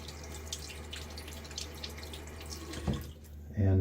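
A bathroom tap runs into a sink while shaving with soap, a steady close trickle that briefly splashes and then cuts off near the end.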